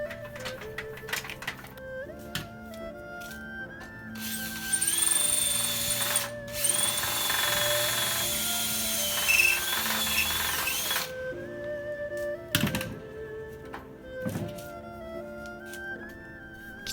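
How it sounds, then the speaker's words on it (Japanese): Power drill boring dowel holes into wooden desk legs for a studio desk, a loud sustained whine rising and falling over several bursts, with quieter pauses between passes. "つなげるためのダボ穴を開けていきます。"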